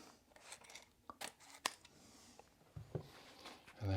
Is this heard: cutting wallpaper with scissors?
yes